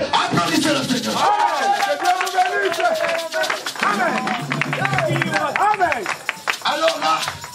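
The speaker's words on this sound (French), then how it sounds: "Applaudissez le Seigneur." A church congregation claps and cheers together, the applause mixed with loud overlapping voices and singing-like shouts that keep going without pause, close and energetic in a lively worship service.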